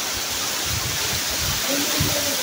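The three-tiered waterfall of Kavre roars as a steady broadband rush of falling water, with a person talking over it.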